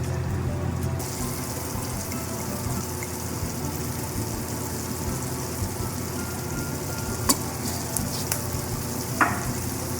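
An artichoke heart and saffron paella cooks steadily in a pan, giving a continuous broadband sizzle and simmer, with a few faint clinks near the end and no talk.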